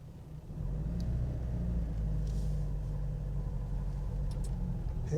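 A Vauxhall Cavalier mk2 rolls around a farmyard, its engine a steady close-up low rumble that settles in after a brief quieter start, with faint clicks and no speech.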